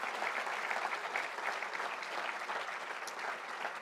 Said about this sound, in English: I'd ask you to acknowledge them by a round of applause